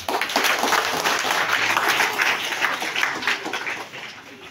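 Church congregation at a healing prayer service claps together in a sustained, dense burst of applause, steady and fairly loud throughout before easing slightly near the end.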